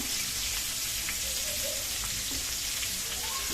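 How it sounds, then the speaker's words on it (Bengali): Chopped onions frying in a pan for a country-chicken kosha curry, giving a steady, even sizzle close up that runs through the whole stretch without a break, with no talking over it. "এখন দিয়ে দিল পেঁয়াজ পেঁয়াজ কুচনো"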